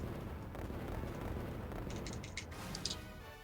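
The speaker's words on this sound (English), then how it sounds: "We got a little fireworks display." A fireworks display in the Disney Planes video game: faint crackling bursts and pops arrive in a short cluster over a steady background rumble, distant and fairly quiet.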